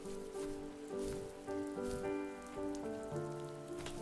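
Steady rainfall in The First Tree hisses across the scene under soft, sustained musical tones, with a constant, even wash of drops and no voices.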